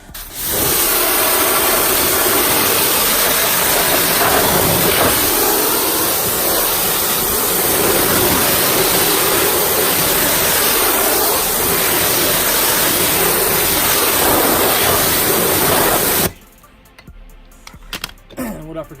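Water spraying onto car wheels and tires, a loud, steady close-up hiss of rinsing that runs without a break and then cuts off abruptly near the end, leaving quieter handling noises.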